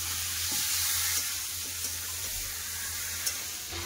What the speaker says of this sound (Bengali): পেঁয়াজের সাথে ভালো করে কষিয়ে নেবো।